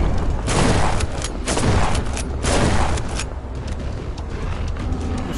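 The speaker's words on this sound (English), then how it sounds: "The shotgun, man." Shotgun blasts in the horror game In Sound Mind make heavy, booming shots in a few loud surges over a constant rumbling background, close and dense throughout.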